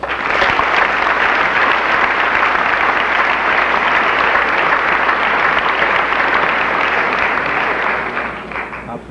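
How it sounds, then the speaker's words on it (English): Graduation audience at a Bettendorf High School ceremony in 1983 applauding, a dense, loud, sustained wash of clapping across a large crowd that tapers slightly at the end. "I think we, the graduates, should give them a round of applause"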